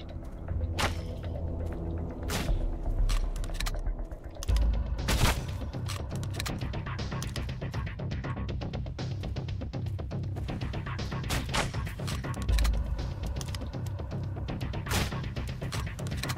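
Gunfire in the survival game Sunkenland: repeated sharp shots and thumps, some in quick bursts, with rumbling impacts set against a busy game background.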